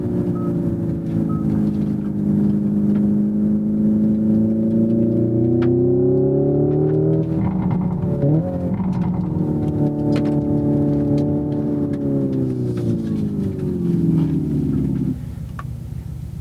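A 2024 Hyundai IONIQ 5 N electric car accelerates hard in Sport Plus mode, its loud synthetic engine tone rising steadily in pitch, dipping briefly at a simulated gear change, then climbing again before dropping off near the end.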